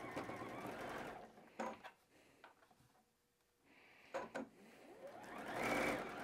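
A sewing machine stitches quilt blocks in fabric in several bursts of rapid whirring, pausing between runs with faint handling clicks, then revving up again loudly at the end.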